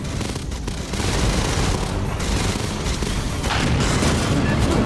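Gunfire in the Alien video game as shots hit capacitors on a boarding mission: a loud, dense, unbroken barrage of rapid blasts that fills the whole stretch without letting up.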